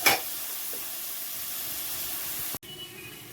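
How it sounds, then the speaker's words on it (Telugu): Onions frying lightly in a pot while cheese-and-egg macaroni is being made, with a faint, even sizzle and hiss after a short clatter at the start and a sudden break near the end. "ఉల్లిపాయలు వేగుతున్నాయి"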